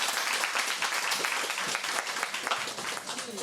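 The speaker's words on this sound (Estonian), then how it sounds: "Teeme aplausi" An audience at a festival discussion event claps together in steady, dense applause, sustained and fairly close throughout with no talking.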